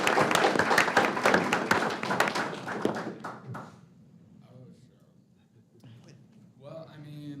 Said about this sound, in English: please give a round of applause for our America 250 recipient this month